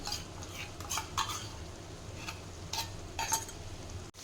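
A spice and yogurt masala with onions is stirred and fried in a pan for a prawn malai curry: repeated scraping strokes of a spoon against the pan over a soft, steady sizzle, close and with no talking.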